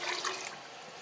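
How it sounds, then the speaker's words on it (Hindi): Water pours steadily into a pressure cooker holding rice for kheer, a broad rushing splash that runs through the whole moment and eases slightly toward the end. "अब हम इसमें दूसरा लीटर पानी डाल के"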